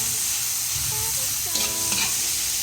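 Tomato, onion and garlic sauté in a pan for sinigang na lechon, with a steady loud sizzle and hiss, brief stirring scrapes and clinks over it.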